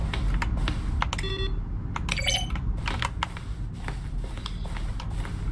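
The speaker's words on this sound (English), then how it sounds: "A selection of the sounds used throughout the game when buttons are pressed. Each sound is a mix of a keyboard stroke and a synthesized tone." Button-press sounds from The Stanley Parable, each a keyboard stroke layered with a short synthesized tone, come as a quick series of separate clicks and bright beeps over a low background hum.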